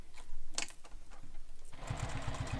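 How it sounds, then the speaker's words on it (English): A sewing machine back stitches a bag strap in place, the motor starting up partway through with a close, rhythmic chugging of needle strokes after some quieter handling noises. "Then what we can do is stitch this in place."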